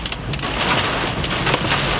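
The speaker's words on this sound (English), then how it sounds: "the hail is actually probably getting a bit bigger now" Hail and heavy rain pelt a car during a Florida thunderstorm, a dense, steady hiss of impacts with rumbling underneath, loud and continuous throughout.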